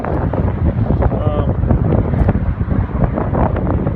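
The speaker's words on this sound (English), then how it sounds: "It's pretty windy right now, so I don't know if you guys can hear me." Strong wind buffets the microphone in a continuous low roar in the Franklin Mountains, El Paso, Texas, with a voice faintly audible beneath the gusts.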